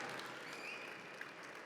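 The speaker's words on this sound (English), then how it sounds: "Can we give her a lovely round of applause?" A conference audience applauds in a soft, steady wash of clapping, faint and distant, holding evenly for under two seconds.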